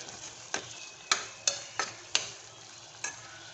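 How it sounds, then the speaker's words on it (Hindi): Masala frying in a pan while being stirred: a soft continuous sizzle broken by about six sharp clinks and scrapes of a spoon against the pan at irregular intervals. "देखिए मसाला हमारा अच्छे से भून चुका है।"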